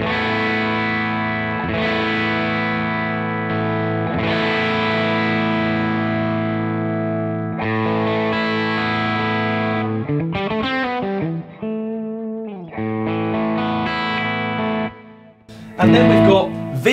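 An electric guitar played through the clean channel of a Fender amp on its fat setting rings out in sustained, full chords, then breaks into shorter strums and a few choppy notes near the end.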